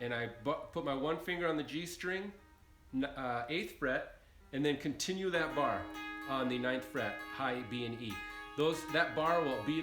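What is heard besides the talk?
No everyday noise stands out behind the speech.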